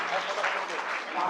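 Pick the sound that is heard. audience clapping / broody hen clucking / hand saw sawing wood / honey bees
audience clapping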